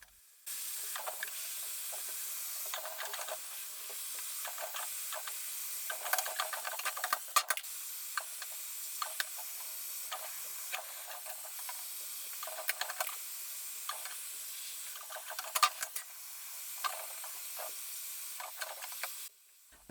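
Heat gun blowing on formica laminate as it is stripped from a mid-century modern sideboard: a loud, steady airy hiss that runs throughout, dotted with small crackles and pops.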